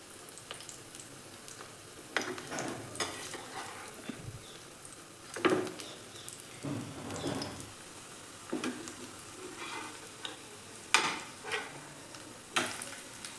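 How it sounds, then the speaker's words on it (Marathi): A raw potato breakfast snack fries on a griddle in a little oil, giving a soft, steady sizzle broken by occasional scrapes and light utensil taps. "आता हे दोन तीन मिनटं आपण व्यवस्थित एक बाजू भाजू देऊ"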